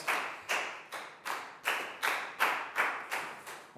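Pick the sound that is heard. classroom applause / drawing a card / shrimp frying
classroom applause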